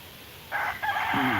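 A rooster crows loudly and close by, one full cock-a-doodle-doo with a rising, wavering call, heard alone.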